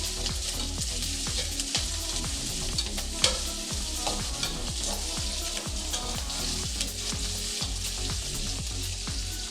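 An onion-masala base for prawn curry fries in a pan, giving a loud continuous sizzle broken by regular, rhythmic scrapes and knocks of a ladle stirring it, with no talk.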